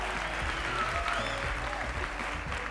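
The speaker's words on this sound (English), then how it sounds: "Big round of applause, ladies and gentlemen." An audience applauds steadily at a live show, a dense and even wash of clapping that sounds somewhat distant.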